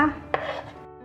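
A pestle strikes once, hard, into a mortar of Thai curry paste, giving a single near, sharp thud with a short ringing decay.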